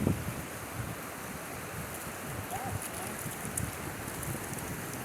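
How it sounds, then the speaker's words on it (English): Wind blows outdoors beside water on a trail, a faint, steady rushing with a soft, low, wave-like roar underneath. "The wind."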